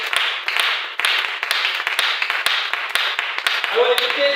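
Church congregation applause and cheering in worship, a broad continuous clapping roar with scattered sharp claps, and a voice emerging near the end.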